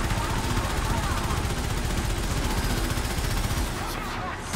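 Spaceship side gun in Warframe Railjack firing nonstop, a dense roaring barrage of rapid blasts filling the whole clip at steady loudness, easing slightly near the end.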